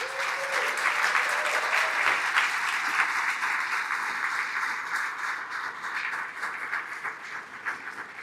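Sustained warm applause from a gala audience welcoming a speaker, many hands clapping steadily for several seconds, fading slightly toward the end.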